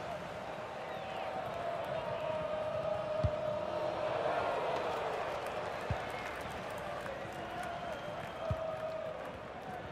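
A virtual stadium crowd in FIFA 19 roars steadily at a football match, a sustained wash of cheering with a few sharp thuds, alongside faint commentary-style talk.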